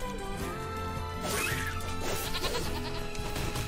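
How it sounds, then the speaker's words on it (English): A goat bleats in the video game NieR Replicant, wavering cries rising over steady game music with a few impact hits. "Oh, is that a goat?"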